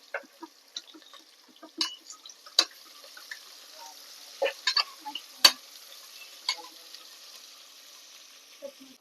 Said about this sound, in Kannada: ಈಗ ಈರುಳ್ಳಿ ಫ್ರೈ ಆಗಿದೆ.